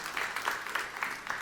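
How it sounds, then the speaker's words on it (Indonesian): Brief, fairly quiet applause in a church during a sermon, with a few claps standing out from a light, steady patter. "Tepuk tangan yang meriah untuk kamu lihat"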